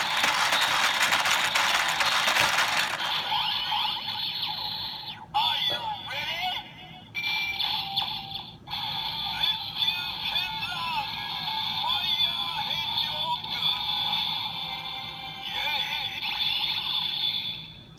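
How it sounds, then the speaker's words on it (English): A crank turns on a green DX Pandora Panel Kamen Rider Build toy, making a loud burst of ratcheting mechanical clicks, then continuing clicks and gear noise mixed with electronic toy sounds. "Let's turn the crank."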